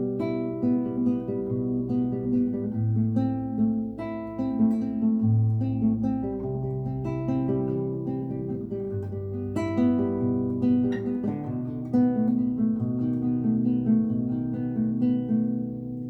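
An acoustic guitar plays the intro of a song as gentle, flowing fingerpicked notes over low sustained bass tones, close and steady throughout, with no one speaking.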